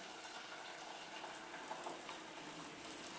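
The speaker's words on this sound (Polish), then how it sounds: "150 g makaronu błyskawicznego miksao zalewamy wrzącą wodą" Boiling water poured steadily over 150 g of instant noodles, a continuous hissing splash close up with no voices.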